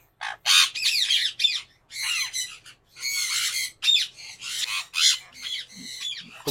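Nesting conure parrots defending eggs and chicks squawk loudly and harshly in repeated overlapping bursts, close to the listener, with short pauses between calls and no talking.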